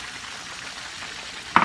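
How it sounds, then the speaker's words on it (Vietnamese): Food fries in a frying pan with a steady, close, even hiss of sizzling oil, ending in a brief clatter. "Giờ em bận cái chảo chiên của em này"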